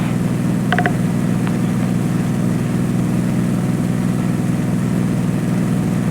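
A small propeller airplane in flight over Alaska, its engine and airscrew giving a steady, loud low drone that fills the cockpit without a break, with a few faint beeps near the start.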